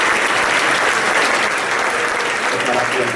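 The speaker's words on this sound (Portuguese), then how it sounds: "Aplauda o Senhor esta noite para mim" Loud, steady applause from a church congregation during an evening sermon, a thick continuous roar of clapping that holds at full strength throughout.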